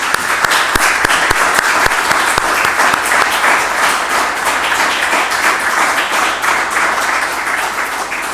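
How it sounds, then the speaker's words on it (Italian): Sustained applause from an audience at a regional government gathering in the Veneto, dense steady clapping filling the room throughout with no talk over it. "Io farei un applauso subito"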